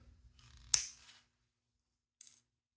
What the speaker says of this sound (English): So I'm gonna cut this piece.